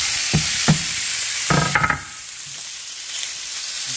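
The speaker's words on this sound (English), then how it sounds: "I'm gonna put it back in the skillet." Cubed steak sizzles loudly in a skillet, broken by several knocks and scrapes as the pieces are dropped in and stirred, then settling into a steady, quieter fry.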